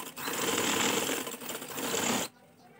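A sewing machine stitches a trouser seam with a steady, dense mechanical whir, loud and close, running for about two seconds before stopping abruptly into a quiet room.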